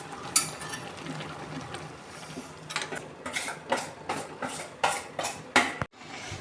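A spoon stirs avial with curry leaves in a pot, giving irregular clinks and scrapes against the metal with a few sharper knocks, close and moderately loud.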